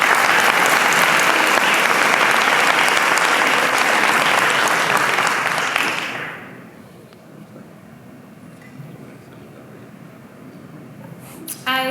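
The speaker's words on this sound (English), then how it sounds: "please join me in a loud round of applause for Zainab." A conference audience in Denver gives loud, dense applause for about six seconds before it drops sharply into quiet room tone, with a brief rustle at the very end.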